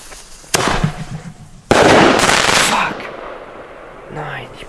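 A Defender 3 firework goes off close by with a sudden loud bang, then a second longer crackling burst that fades out, heard outdoors.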